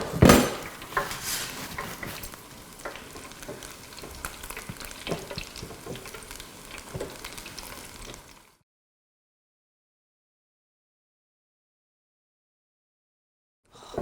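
Thai sweet corn fritters sizzle and crackle in hot oil, a busy spattering fry with occasional utensil clinks, cutting off abruptly into silence.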